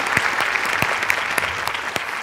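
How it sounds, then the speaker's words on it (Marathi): A burst of enthusiastic clapping from a comedy show audience, steady and dense, with a few sharper individual claps standing out. "जोरदार टाळ्या."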